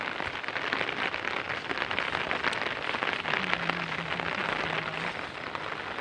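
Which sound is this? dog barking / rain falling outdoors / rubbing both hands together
rain falling outdoors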